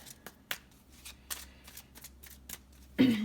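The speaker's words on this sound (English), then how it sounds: "I'm just going to shuffle a few times here." Tarot cards shuffled by hand in a series of quick riffles and taps, close and crisp, ending with a brief louder burst as a voice starts.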